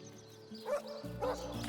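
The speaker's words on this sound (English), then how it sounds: "This dog, it is a creature worthy of your affection." Short yips and a whimpering bark from a dog in the video game Divinity: Original Sin, two brief bursts over a steady game soundtrack.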